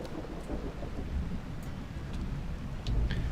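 A rainy day in the tavern-management game Tavern Master brings a faint bed of rain with low, rolling thunder rumbles that swell now and then, heard alone.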